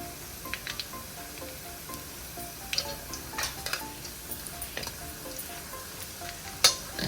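Asafoetida goes into garlic frying in hot oil, giving a steady soft sizzle with scattered crackles and light stirring clinks, and a sharper pop near the end.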